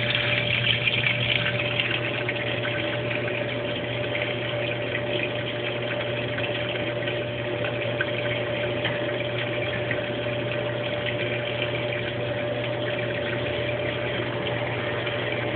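Brastemp Baby Mondial washing machine filling with water during a load of whites: a steady, continuous rush and hum of water flowing into the tub, with a constant pump-like drone and no voices.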